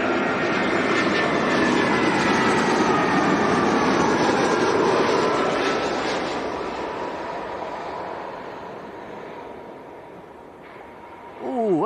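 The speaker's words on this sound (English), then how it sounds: "EasyJet from Belfast, A320 making its first visit to Leeds." EasyJet Airbus A320 from Belfast landing at Leeds Bradford Airport, a loud sustained jet roar heard close by that fades gradually, with a brief rise at the end.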